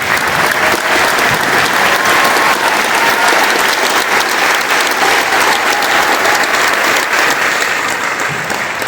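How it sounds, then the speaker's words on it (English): A loud, sustained ovation from a crowd at an Army infantry graduation at Fort Benning, Georgia, for C and D Companies of the 2nd Battalion, 47th Infantry Regiment. The dense clapping stays steady throughout. "please join us in giving these fine soldiers a round of applause"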